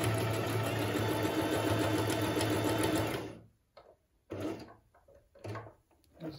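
A Singer Talent 3321 sewing machine runs a zigzag stitch in a steady, close, loud mechanical whir for about three seconds, then stops, followed by a few shorter bursts of clicking and handling.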